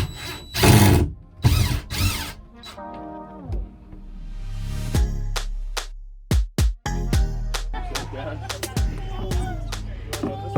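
Power drill backing screws out of a Grand Design Solitude RV, several short bursts of whirring, one after another, close and loud, with people talking around them.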